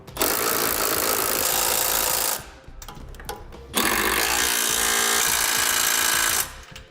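A power tool snugs down bumper bolts while a Blue Ox base plate kit is fitted to a 2015 Jeep Wrangler. Two long, loud, steady whirring bursts sound close up, with a short pause of lighter clatter between them.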